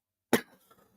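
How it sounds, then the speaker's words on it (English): One sharp, close cough breaks a brief silence and fades quickly, with faint low rustle afterward. "sorry about coughing"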